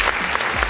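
A short burst of applause sound effect: dense, steady clapping from a crowd, loud and close, lasting under a second with no voices over it.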